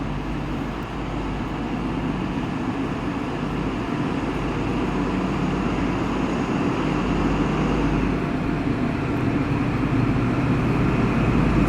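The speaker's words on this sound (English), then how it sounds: "we're going to have a East Midlands HST. Came from London St Pancras" An East Midlands HST diesel train from London St Pancras arrives at Nottingham station, a steady, loud, low rumble of engine and rolling wheels that holds without a break, with no voices.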